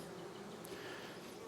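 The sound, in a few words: honey bees buzzing around a hive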